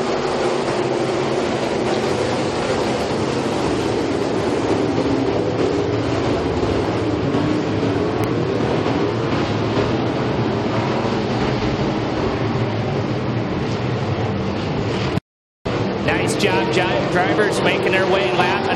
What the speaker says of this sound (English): Sport Mod racing.